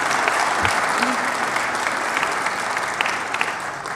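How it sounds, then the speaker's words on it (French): An audience at an Overseas France talent awards ceremony gives steady, full applause, a dense wash of clapping that holds evenly throughout with some faint crowd sound mixed in. "Donc, un petit applaudissement,"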